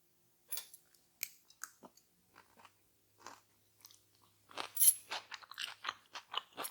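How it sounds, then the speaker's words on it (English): Someone chews a Mexican quinoa bowl with crunchy vegetables, cabbage, beans and corn, producing close, crisp bites and crunches, sparse at first and then quickening into a rapid burst of crunching toward the end. "I love the beans and I love the bite of the crunchy vegetables"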